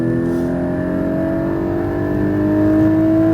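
Porsche Cayman GT4 engine on a track, heard from close by as a loud, steady droning tone with strong harmonics, its pitch shifting gradually as the car brakes and downshifts, with no voices.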